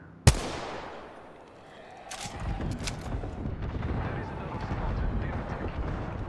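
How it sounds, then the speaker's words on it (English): An airstrike in the video game Apex Legends: a sharp close blast followed by a swelling, sustained roar of rumbling explosions and crackling gunfire, with a voice speaking briefly over it. "Airstrike."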